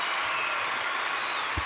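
Crowd applause fills a gymnastics arena at the 2013 World Cup in La Roche-sur-Yon, France, after a men's balance beam or parallel bars routine, a steady broad wash of clapping throughout.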